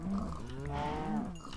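A single drawn-out cow moo from Minecraft, a low, groaning call with a slight rise in the middle, fairly quiet and heard alone.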